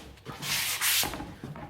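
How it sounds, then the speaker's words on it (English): A close, soft scratchy rubbing in two or three strokes, a foam sanding block worked by hand across wood, quiet with no voices. "as a final finish, I use one of these foam sanding blocks"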